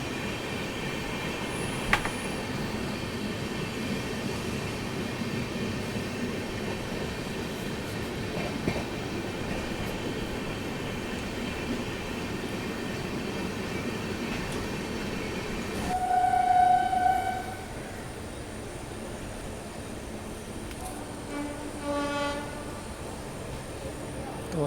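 The 20805 Andhra Pradesh Express passenger train rolls along the rails toward New Delhi during the monsoon, a steady heavy rumble heard from inside a general coach, with wheel squeal and a horn-like tone later on.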